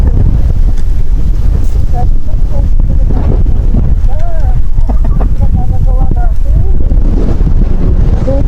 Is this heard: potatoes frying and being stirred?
no